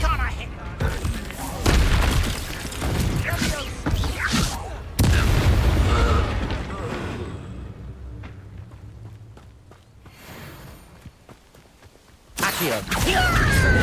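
Booming spell blasts from the Confringo fire curse in Hogwarts Legacy on PS5, loud explosive thuds with a heavy burst near the start and another around five seconds, then a quieter rumbling stretch before a final sharp blast, with a voice speaking over it.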